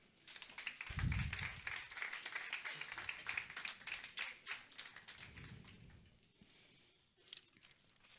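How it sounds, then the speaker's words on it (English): Faint, distant round of applause from a seated audience for panel members at a scientific conference, steady crackling claps sustained for several seconds and tapering off, with occasional low voice murmurs underneath. "Please give them a round of applause."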